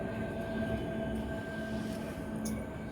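A train rolling past near a railway station, a steady, fairly faint rumble with a sustained tonal hum and a brief high squeal near the end, no voices.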